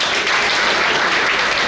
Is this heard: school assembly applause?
yes